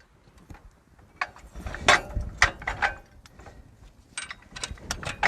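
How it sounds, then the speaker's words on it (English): A trailer hitch slides into a hitch receiver, with metallic clanks, scrapes and clicks in irregular bursts close by, louder in the middle of the action. "and I'm going to install the hitch."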